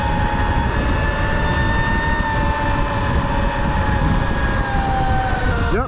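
Solar E-Clipse 72v electric dirt bike at max speed, with a loud steady high-pitched motor whine and rushing wind noise throughout, the whine shifting slightly near the end.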